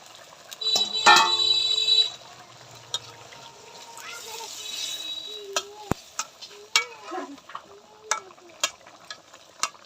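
Fish dropped into hot oil in a pan, a burst of sizzling and spattering that fades to quieter frying with scattered clinks and stirring.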